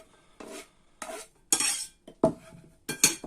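Pieces of cut radish tipped into a shared bowl while making okroshka salad: several separate bursts of clattering and tumbling, with cutlery and dish clinks, roughly every half second, close and fairly quiet, no talking.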